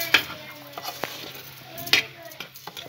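Bulgur frying in a pan with vegetables, stirred with a few light clinks of a utensil against the pan over a soft, steady sizzle; brief speech nearby.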